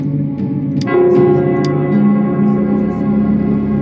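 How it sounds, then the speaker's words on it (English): In the video game Wuthering Waves, the Nell Square bell rings with a few resonant, echoing tolls that hang in a long sustained hum, loud and without talking. "it's the Nell Squares bell."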